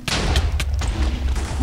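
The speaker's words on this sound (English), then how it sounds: "That's the GG noise. Big explosion." Minecraft explosions go off as a rapid series of loud, sharp booms and cracks, several blasts in quick succession, close and dominant with no voices.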